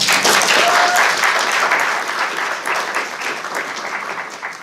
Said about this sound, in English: We applaud your efforts and thanks for being here.